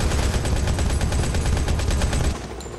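Sustained automatic gunfire in the mobile shooter Modern Combat 5, played on an nVidia SHIELD console, a loud dense rattle of rapid shots lasting most of the clip before fading slightly at the end.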